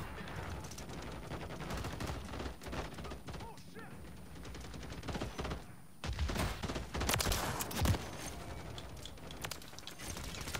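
Dense, nonstop gunfire and explosions fill a Modern Warfare 3 multiplayer match, loud and close with overlapping bursts throughout and a brief dip in the middle.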